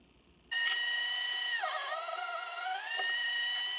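A meat grinder starts up after a quiet moment and runs steadily with a high, whining motor tone that dips in pitch under load as steak and bacon are ground, no voices.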